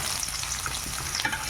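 Onions fry in a pan with a brief, close crackling sizzle and a light scrape of stirring, alone without voices.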